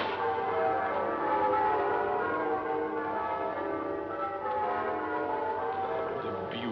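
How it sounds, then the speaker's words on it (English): Church bells ring steadily in a dense, overlapping peal that fills the whole stretch, loud and reverberant with no voices, in the video game GTA Online. "Bells. Oh, merry, merry bells."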